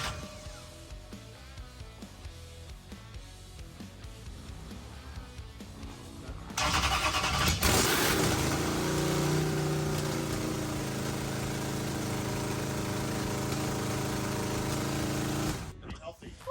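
A 1976 Corvette engine cranks, catches and settles into a loud, steady running idle that continues for several seconds before cutting off abruptly, with people talking during the quieter stretch beforehand.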